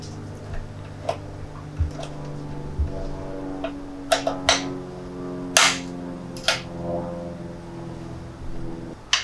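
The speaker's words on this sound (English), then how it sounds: "So now we have to unbolt these bolts to finish taking out the rest of the part." Bolts are undone on the fuel door of a Yamaha R3 motorcycle, heard as sparse, sharp metallic ticks and a few louder clacks over a steady low hum.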